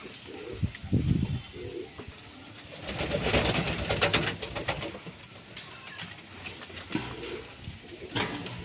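Several pigeons kept for sale coo in repeated low, throaty bursts, with a brief louder swell of cooing and rustling midway; no talking is heard.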